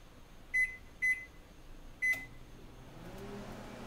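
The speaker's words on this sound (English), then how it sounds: "put it in your microwave" Three short electronic beeps sound from a microwave, then a low steady hum begins as the oven starts running nearby on a three-minute cleaning cycle.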